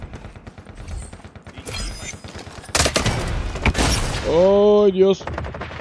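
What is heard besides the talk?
gunfire in the video game Lost Light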